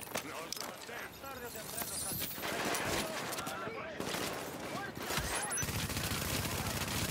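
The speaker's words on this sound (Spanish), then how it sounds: "Alguien me está disparando por el otro lado." Gunfire from a firefight in The Division crackles across the whole stretch, dense and continuous with sharp bursts, loud and close under constant game noise, while a voice talks over it.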